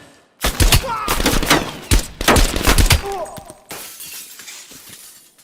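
Sustained suppressing gunfire in Call of Duty Black Ops Cold War, loud overlapping bursts of rifle fire with shattering impacts and glassy debris, brief pauses between volleys, and distant shouting underneath.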